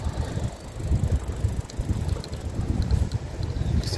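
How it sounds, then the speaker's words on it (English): A bicycle rolls steadily over smooth concrete pads at an RV park, giving a continuous low rumble mixed with wind buffeting the microphone, with no one speaking. "You see how smooth it is by this bike ride."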